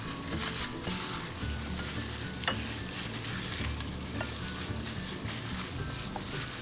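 Chicken frying in a pan for Filipino pochero with pork and beans, a steady dense sizzle and crackle running throughout with occasional stirring knocks, close and fairly loud with no talk.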